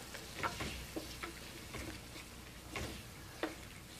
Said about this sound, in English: Now we're going to stir this here.